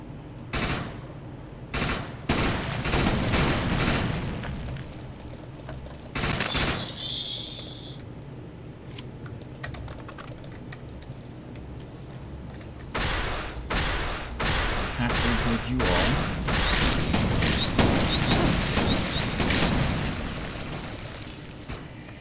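Gunfire in the video game Defiance comes in scattered loud bursts and rapid volleys with pauses between, building into sustained automatic fire near the end.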